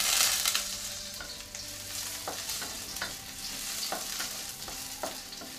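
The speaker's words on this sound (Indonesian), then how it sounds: "setelah minyak panas, tumis bawang putih dan jahe." Garlic and ginger sauté in a little hot oil, giving a steady soft sizzle with occasional scraping stirs of a spatula against the pan, no voices.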